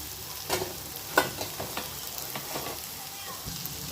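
Vermicelli is stirred and fried with other ingredients in a pan for semiya kichadi. The soft sizzle is punctuated by occasional spoon scrapes and clatters, fairly quiet and close.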